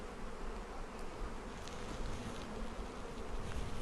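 Honeybees swarm and hum steadily during a pre-spring hive inspection, a dense, continuous buzz close by with no voices over it.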